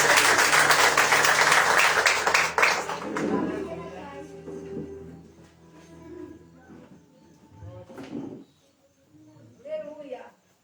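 Church congregation applauding during a worship service, loud dense clapping for the first couple of seconds, then fading into scattered claps and murmuring voices with brief talk.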